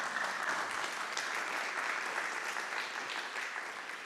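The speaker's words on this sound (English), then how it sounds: "Please do applaud." Audience applause at an annual meeting, a steady wash of clapping from a moderately sized room, heard at a distance and fading slightly toward the end.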